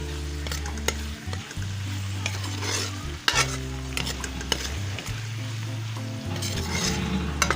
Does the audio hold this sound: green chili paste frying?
yes